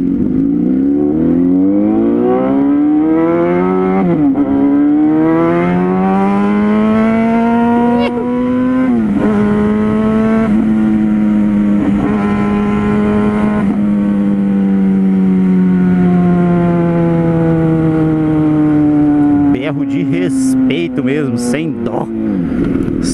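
A four-cylinder motorcycle engine revs hard and steadily for a long stretch, its pitch climbing and falling in sustained loud pulls, with a few brief throttle blips and crackles near the end.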